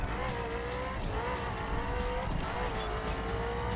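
A Ferrari in the racing game The Crew drives with a continuous revving engine. Its pitch wavers up and down under a steady roar of tire and road noise, with no voices.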